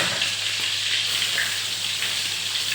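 Mackerel frying in hot oil, a close, dense and steady sizzle with fine crackling, alone without talk.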